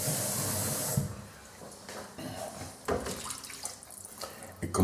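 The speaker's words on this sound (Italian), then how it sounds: "mettiamo un poco d'acqua." Water runs briefly into a pan while calamarata pasta cooks in a home kitchen, a hissing pour for about a second followed by quieter clinks and bubbling sounds.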